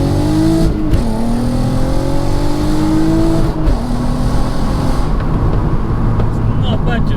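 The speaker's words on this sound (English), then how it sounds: "this is full acceleration on R32" A VW Golf R32 accelerating hard, its engine note climbing steadily in pitch through the gears with brief dips at shifts, loud and close throughout, while a voice talks over it.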